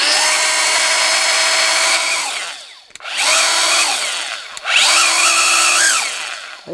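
A new angle grinder whines up to speed three times in a row, each run high-pitched and steady before spinning down, close and loud with no talking.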